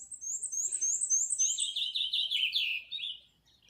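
Small birds chirp in the open sky, with rapid bright twitters and repeated trilling phrases close by. The calls overlap continuously before fading out near the end, with no voices.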